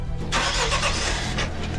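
A car engine cranks and turns over into a low rumble, close and loud, brief and continuous without talking.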